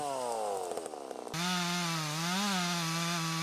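A chainsaw cuts into a giant hybrid poplar during tree felling, its engine loud and close, revving with harmonic pitch dips before settling into a steady high whine as it bites through the wood.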